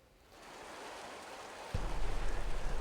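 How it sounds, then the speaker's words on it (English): Steady rain falls during a severe spring storm, a soft continuous hiss that thickens into a louder, rougher wash with low rumble partway through, with no voices. "for the first time, we're starting to see some consistent rain now, James."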